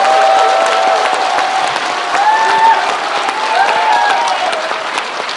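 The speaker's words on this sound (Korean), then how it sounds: "박수 한번 쳐주시죠." A crowd at a Gwangju talk concert applauds steadily throughout, a dense wash of clapping with faint whoops and voices mixed in.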